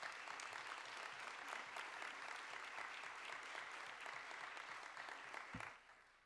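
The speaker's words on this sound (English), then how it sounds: "Please give them a round of applause." Audience at a candidate forum in Anacortes applauds steadily for several seconds, a dense clapping that fades out at the end.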